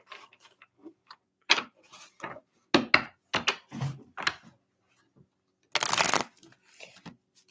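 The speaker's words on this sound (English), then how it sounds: "these cards just don't want to shuffle today." Playing cards are riffled and shuffled in several short crisp bursts with small taps between, ending in one long fluttering riffle, close by.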